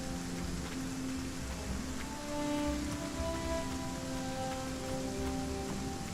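Steady rain falls in the video game ASKA, a constant dense patter on surfaces with faint tonal sounds running under it.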